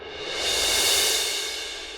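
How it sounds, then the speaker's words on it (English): A darker, larger suspended cymbal swells in a crescendo roll from a CinePerc sample library, a broad bright wash building to a peak near the middle and easing off over about two seconds, heard alone. "It's a bigger cymbal."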